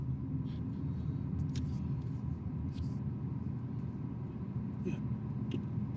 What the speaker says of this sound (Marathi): त्यामुळे सर्व्हिस रोडने गाडी चालली आहे